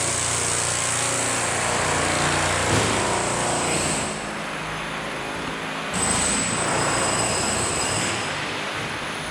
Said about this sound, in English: Looks like they're drilling right here.